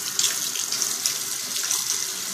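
Warm water runs loudly from a tap to fill a small bath, a steady close splashing rush with no pauses.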